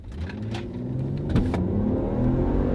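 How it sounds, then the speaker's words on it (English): An all-wheel-drive twin-turbo Volvo station wagon of about 300 horsepower accelerating hard, its engine droning loud and steady close by, rising in pitch with a brief shift dip midway. "It is all-wheel drive, so we'll punch it and see what those 300 horsepower can do."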